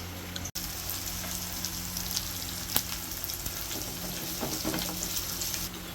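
Shallots sizzle in hot sesame oil for a steady crackling fry, with a brief dropout near the start and a few louder pops scattered through, all close and continuous with no talking.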